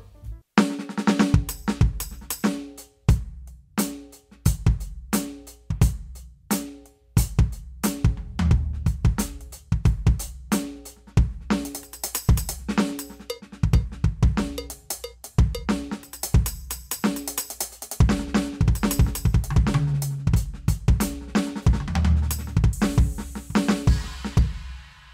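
Roland TD-17 electronic drum kit played steadily for about 25 seconds, with a rapid run of sharp pad and cymbal hits in a driving rhythm that grows denser near the end, heard up close with no talking.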